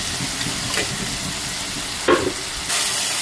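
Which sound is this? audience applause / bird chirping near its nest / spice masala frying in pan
spice masala frying in pan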